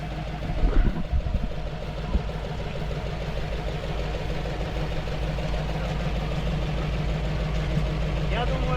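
A GAZ-66 Shishiga off-road truck engine idles steadily and loudly throughout, a continuous low rumble with a few brief knocks near the start, and people talk over it.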